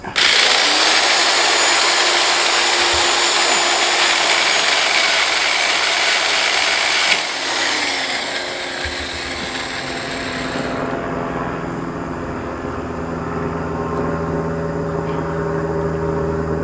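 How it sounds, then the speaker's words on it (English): Grinder shaving down protruding screw tips on an aluminum roof panel of an Aliner A-frame popup camper, a loud continuous high whine that shifts pitch midway and winds down to a lower steady hum, no voices. "We're going to grind these down just a little to make sure they're flat and smooth so they don't rub on the lower roof."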